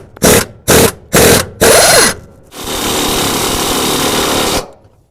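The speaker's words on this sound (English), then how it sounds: "Okay, we've got those run down pretty tight with our impact wrench." An impact wrench tightens the bolts on a SuperSteer rear track bar, hammering out four short loud bursts and then one long steady run of several seconds before stopping, with no talking.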